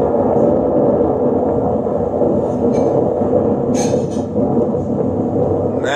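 A Toastmasters group performs a thunderclap, building a loud, dense rumble of many hands clapping and thumping that holds steady for several seconds, with a few sharper claps standing out.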